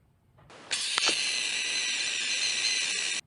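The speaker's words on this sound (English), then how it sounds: "They make gecko screams." A gecko's shrill, high-pitched scream starts abruptly and holds steady for about two and a half seconds before cutting off, loud and close.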